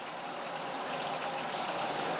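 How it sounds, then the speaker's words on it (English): Cooling water runs through the coolant line of a rotary evaporator in a chemistry lab, a soft, even hiss of flowing liquid with no other sound. "As you can see, the water is running through the water coolant."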